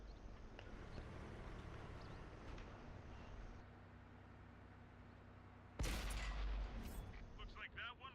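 Tank cannon fire in a night battle in a tank video game featuring the Cromwell, with a loud, sharp blast about two-thirds of the way through after steady rumbling engine background.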